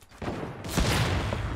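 A short, loud burst of rapid gunfire in a Fortnite battle starts just after a quiet moment and keeps up as a dense, close volley with no talking over it.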